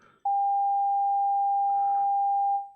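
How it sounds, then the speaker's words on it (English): A single steady electronic tone holds at one pitch for over two seconds, loud and clean, then fades out, with faint background noise around it. "I would play a tone on this keyboard"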